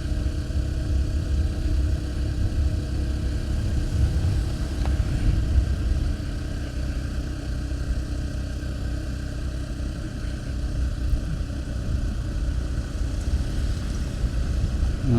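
Motorcycle engine droning steadily while riding along a road, a constant close mid-pitched hum with wind roar and no breaks, no talking over it.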